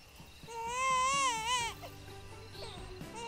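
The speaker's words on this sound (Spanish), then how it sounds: "que se escuche el llanto de un bebé que había nacido" A newborn baby cries loudly in a long wavering wail, then breaks off into softer whimpers and short sobbing sounds.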